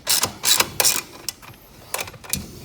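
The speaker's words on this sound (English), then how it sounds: "We'll just get all our bolts tightened up here." Bolts being tightened while assembling a 1300W electric ATV, heard as a close ratcheting tool giving quick bursts of mechanical clicks, loud at first and then lighter and more spaced out.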